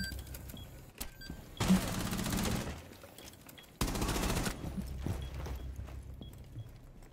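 Two dense bursts of gunfire from Rainbow Six Siege, each lasting about a second, separated by a short lull over a low game rumble. The shots come up loud and close.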